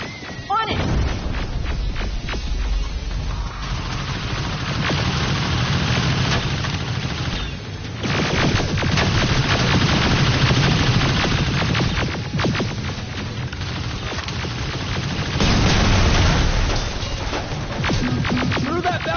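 AK rifle fire and heavy combat noise in the video game Terminator Resistance, bursts of shots, rumbling explosions and a throbbing machine drone filling the whole stretch, loud, with shouted voices breaking in at moments.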